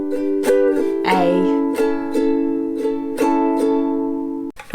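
Ukulele strummed in a down, down, up, down, up pattern through chords of a song, with bright repeated strums ringing loud and close, no talking.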